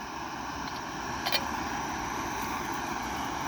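A gas stove burner turned up high gives a steady, close, continuous roar with a faint brief click partway through.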